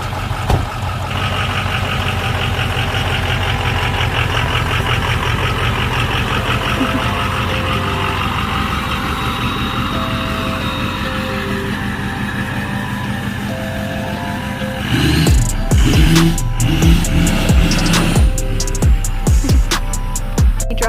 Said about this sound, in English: on our way to move the truck over to a more open area